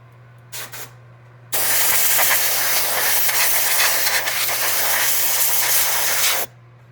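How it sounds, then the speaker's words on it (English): A close, loud burst of compressed air sprays in a steady hiss for about five seconds during guitar restringing, preceded by two brief short puffs. "a little compressed air again."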